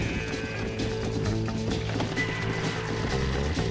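Horse galloping in a western video game, a steady rhythmic clip-clop of hooves under music and ambient game sound, fairly loud and continuous.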